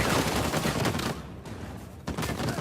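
Rapid turret gunfire in Uncharted 4, a dense, loud stream of shots that pauses briefly midway and then resumes at full intensity.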